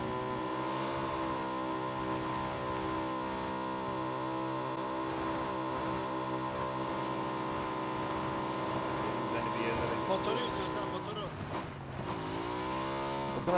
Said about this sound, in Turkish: Benim önümde motor gidiyor şu an